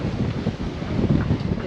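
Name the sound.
wind blowing on a sailboat at the pier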